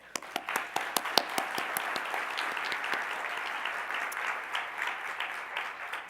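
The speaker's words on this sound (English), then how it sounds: "applause for Mark" An audience at the 35th annual Marion Thompson Wright lecture applauds for a speaker, starting with a few distinct separate claps that quickly swell into steady, fairly soft applause across the room.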